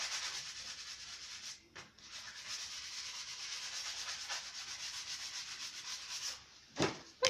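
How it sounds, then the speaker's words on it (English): A wooden surface being scrubbed to rough it up, a continuous close abrasive rubbing with brief pauses and a few louder strokes near the end, no voices. "And just scrub it off so the surface get a bit roughed up."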